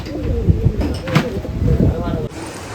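Pigeons coo in repeated low bursts at a pigeon festival in Nashik, with talk nearby and a brief clack near the end as the background drops away.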